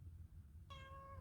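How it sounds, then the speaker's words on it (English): A single cat meows once, a clear, fairly faint tonal cry rising out of a low indoor hum partway through. "Cat says no."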